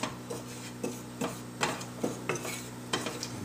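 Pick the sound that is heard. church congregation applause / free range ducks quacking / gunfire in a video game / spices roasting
spices roasting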